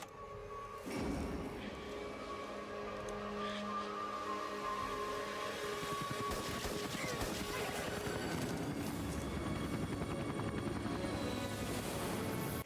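A helicopter's rotor thrums steadily and loudly throughout, mixed with a dense roar of machinery; no voices are present. From a film or TV scene.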